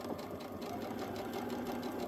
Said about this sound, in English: Just make sure what is in front of your needle is straight and start sewing again.